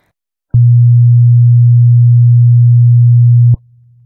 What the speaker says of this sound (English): You will now hear two tones back to back. The first is in phase, and the second is out of phase.